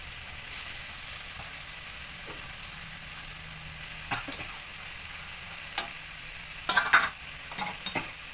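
A boiled banana flower and boiled potato mixture is stirred in a pan: a soft, continuous frying hiss with scattered scrapes and a few sharper spoon knocks near the end, with no voices.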